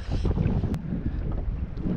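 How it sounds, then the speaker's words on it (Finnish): Wind gusting outdoors on a lake during summer fishing, a light south wind buffeting the microphone as a steady low rumble with faint water sounds, no voices. "Vähän tuulista tänäänkin."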